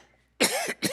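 A preacher coughs during a church service, two sharp, close coughs in quick succession after a moment of near silence.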